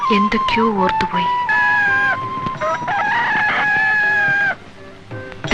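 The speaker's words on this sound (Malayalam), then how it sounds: "അയ്യോ, കോഴി കൂവി." A rooster crows in an old Malayalam feature film, a loud, drawn-out cock-a-doodle-doo with clucking fowl and film sound mixed in, close and prominent throughout.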